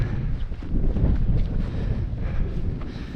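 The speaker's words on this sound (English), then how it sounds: "Straight into the wind. A pretty biting wind it is too." A strong, biting wind blows across a hill summit in the Lammermuir Hills, buffeting the microphone with a steady low roar and gusts, with no talking.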